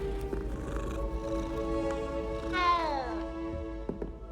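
Kittens in the Hogwarts Legacy video game meowing and purring while being petted: a soft purr runs under the scene, then a clear rising-and-falling meow stands out midway, with a faint voice in the background.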